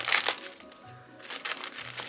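Plastic wrapping on a sewing kit package crinkles and crackles in quick irregular bursts, close and moderately quiet, with a short lull in the middle before the rustling resumes.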